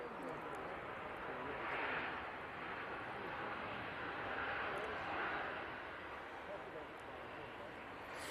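A Ryanair airliner passing at Manchester Airport gives a steady, broad roar that swells twice, with voices talking over it.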